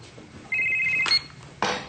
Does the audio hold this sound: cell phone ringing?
yes